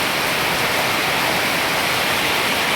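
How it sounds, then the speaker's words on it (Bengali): Water pours down all around inside a temple in a dense, steady rushing hiss, loud and unbroken like heavy rain or a waterfall, with no voices. "দেখো মন্দিরের মধ্যে চারোদিকে জল পড়ছে আমাদের, চারোদিকে মন্দিরে জল পড়ছে"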